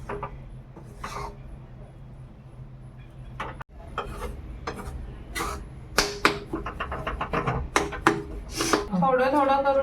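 A spoon scrapes and stirs besan flour being roasted in a pan for besan ladoo, with irregular close scraping strokes and clinks that grow busier and louder toward the end.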